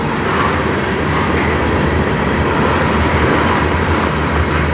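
A CN manifest freight train hauled by CN 3100 and CN 3310 locomotives rolls past at close range on the Strathroy Subdivision, a loud, continuous roar of wheels and rumbling freight cars with no talking.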